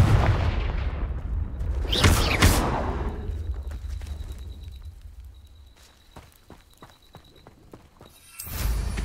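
Confringo explosive spell blasts in the Hogwarts Legacy video game, a loud burst with a booming impact that decays slowly into rumbling debris and scattered clatter, followed by another surge of blast noise near the end.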